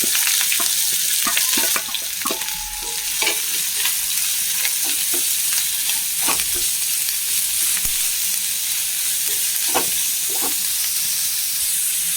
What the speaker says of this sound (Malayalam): ഈ വെജിറ്റബിൾസിലേക്ക് ആവശ്യമുള്ള ഉപ്പിട്ട് കൊടുക്കാം. നന്നായി ഇളക്കി കൊടുക്കാം.